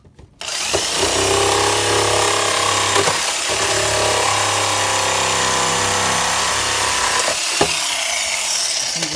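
A power tool trims and widens a speaker hole cut into a car panel, running loud and steady for most of the stretch with a brief pause partway through and a short stop near the end.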